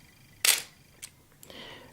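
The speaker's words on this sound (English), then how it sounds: "So we need to fire the shutter." A Pentax film camera's shutter fires once with a sharp mechanical click, near and fairly loud, followed by two fainter clicks and a soft mechanical rattle.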